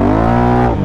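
A four-wheeler ATV engine revs hard in four-wheel drive, a loud, close, buzzing whine that holds steady and then drops away briefly at the end.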